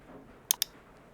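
Two crisp computer mouse clicks close together, sharp and near against a quiet room background, with nothing else heard.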